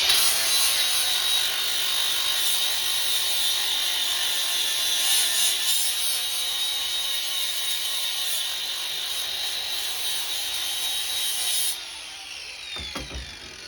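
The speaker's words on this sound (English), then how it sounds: "Just a little flapper disc on an angle grinder, nothing too special." An angle grinder with a flap disc cleans metal before a Miller Multimatic 220 welding test, a loud, steady high-pitched abrasive whine that runs continuously before dropping away near the end, with no talking.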